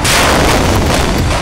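A single heavy rock-blasting explosion in tunnel construction for Mumbai's Eastern Freeway roars loudly and sustains as a dense, rumbling wash of noise echoing through rock.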